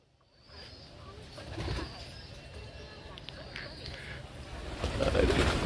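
Pet pigeons coo softly at a coop amid a faint rustle of movement and wings, while someone talks over them throughout.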